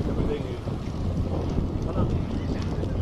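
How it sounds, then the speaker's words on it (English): Wind gusts buffet the microphone in a steady low rumble while cycling past cherry blossoms near Himeji Castle, fairly loud and continuous throughout. "wind in my hair."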